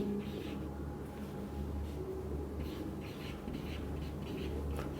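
Faint, scratchy strokes of someone writing out a definition during an accounting lecture, soft intermittent bursts over a quiet room hum.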